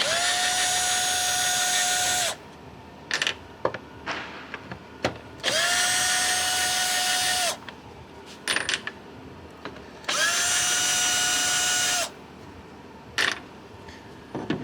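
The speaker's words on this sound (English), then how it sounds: "Go ahead and get your drill, like you see here." A cordless drill on a 2014 Chrysler 300S runs in three long whirring bursts, each about two seconds, backing intake screws out at close range, with short clicks and clatter of handling between bursts.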